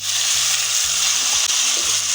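Mustard seeds splutter in hot oil in a pan for a jackfruit curry tempering, giving a continuous dense crackling sizzle with a low hum underneath.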